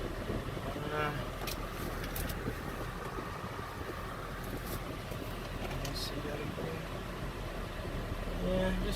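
A car on the road with an automatic transmission shifting slowly but smoothly, steady engine and road rumble with wind noise throughout, a faint rise near the end.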